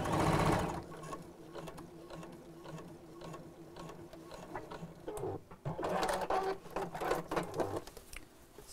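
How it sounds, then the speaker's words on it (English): A domestic sewing machine stitches a fabric drawstring bag, its steady mechanical whir running in bursts with short pauses, fairly close and clear with almost no talk. "Just make sure I'm not sewing through the other side."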